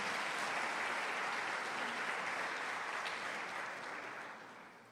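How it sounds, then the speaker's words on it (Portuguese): A church congregation applauds during a sermon, a steady wash of many hands clapping that holds evenly and then gradually fades toward the end. "Você pode aplaudir Jesus mais uma vez?"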